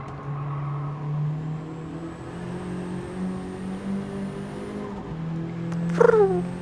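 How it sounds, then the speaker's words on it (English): A Gran Turismo 7 racing car engine hums and whines steadily with turbo sound and gear shifts, its pitch rising and dropping, then a brief squealing cry near the end. "I love the way that turbo sound."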